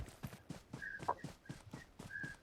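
Faint, quick clip-clop of a horse's hooves in an online shooter scrim match, a rapid even trot with light electronic tones over it.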